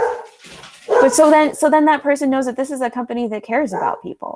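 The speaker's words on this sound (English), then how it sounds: "Sorry, that's my dog." A pet dog barks and yips in a run of sharp, close calls, heard under a person speaking steadily in an indoor conversation.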